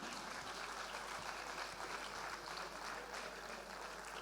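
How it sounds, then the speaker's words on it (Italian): Sustained applause from an audience at the Penalty Awards 2025 ceremony, a steady dense wash of clapping that holds evenly throughout without a break. "Facciamo un applauso"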